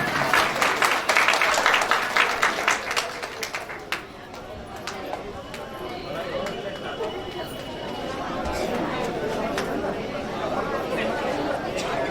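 Crowd applause at a foundation day celebration for Net India Suvidha Cards Limited, welcoming Markandey Mishra: dense clapping early that fades into general chatter and crowd murmur.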